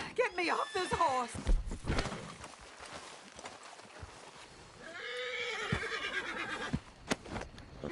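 A horse in the Red Dead Redemption video game whinnies loudly at the start and again midway, with scattered hoof thuds in between and voices speaking around it.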